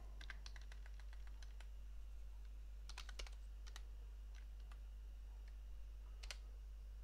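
Keys clatter on a computer keyboard in short bursts of quick taps separated by pauses, set against a quiet steady hum.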